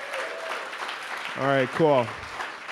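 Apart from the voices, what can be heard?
audience applause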